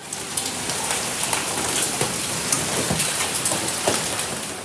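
Heavy rain with hail pours down steadily during a severe storm in Islamabad, a dense, loud, continuous hiss with scattered sharper pattering impacts throughout and no voices.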